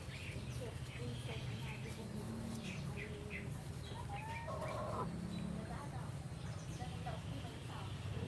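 Soft, intermittent clucking from a black widow breeder hen, faint and close, with scattered chirps over a steady low background hum.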